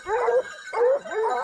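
Hunting dogs on a wild boar hunt give short whining yelps and whimpers, two or three close, high strained cries in quick succession, with no talking over them.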